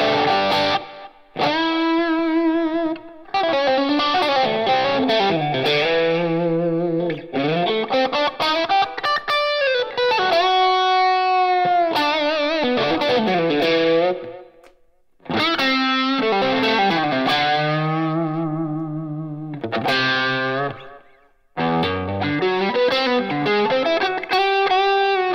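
Electric guitar playing solo lines through a Line 6 HX Stomp on a Vox amp model, with a distorted, effects-laden lead tone, sustained bent notes and phrases separated by short pauses, loud and alone.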